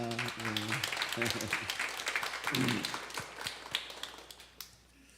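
Church congregation applauding a visiting soloist during a Sunday intergenerational worship service, a modest ripple of claps following speech and fading out toward the end.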